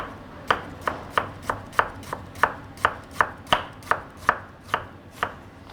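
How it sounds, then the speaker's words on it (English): A knife slices onions on a cutting board in a home kitchen, with about fourteen sharp, evenly spaced chops sounding close and alone. "So we're going to be slicing the onions."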